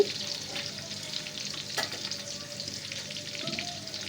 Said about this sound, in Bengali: এদিকে আমি পেঁয়াজ কুচিটা দিয়ে দিয়েছি